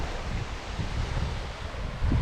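Sea waves wash against a rugged Scottish coastline near a sea-worn rock arch, a steady rushing surf mixed with wind, moderately distant, with a heavier surge near the end and no voices.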